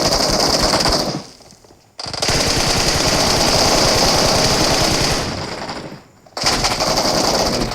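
Sustained rapid automatic gunfire from a shooting video game, loud and close, in two long bursts separated by brief near-silent pauses, with no talking.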